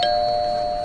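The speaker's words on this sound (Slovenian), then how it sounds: "Pa najboljše, da kar pozvonim." A house doorbell rings with one steady, sustained electronic tone, close and clear, with no voices.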